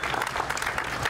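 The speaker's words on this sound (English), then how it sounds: "Let's give them all a round of applause here." Audience applause at a dedication ceremony for the Vashon water taxi M.V. Sally Fox, a brief burst of steady, dense clapping from a crowd.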